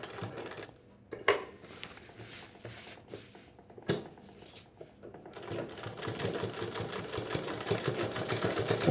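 A sewing machine stitches a collar on an apron in short bursts: a few isolated thumps and clicks first, then a steadier run of stitching that grows louder toward the end, close by with no talk.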